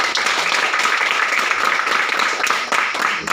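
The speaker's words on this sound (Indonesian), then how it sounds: "mari kita berikan aplaus" Students and teacher clap together in a classroom, a steady, fairly loud round of applause that holds evenly throughout with no talking over it.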